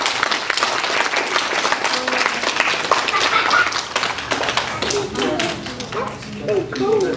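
Audience applause breaks out after a taekwondo forms demonstration at a church, a dense, continuous patter of many hands clapping close by, with voices talking and calling out over it.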